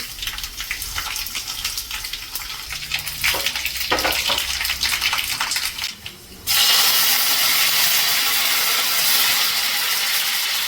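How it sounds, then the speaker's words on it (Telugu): Mustard seeds, dried red chillies and curry leaves crackle and sizzle in hot oil, then a sudden louder, steady hiss of frying takes over for the rest. "మంచిగా తాలింపు వేసేసుకున్నాము."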